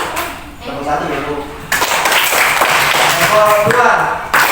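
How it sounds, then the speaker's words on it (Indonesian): Students in a classroom clap for a group, with brief bursts of hand claps mixed with lively chatter close by. "Tepuk tangan dulu untuk kelompok"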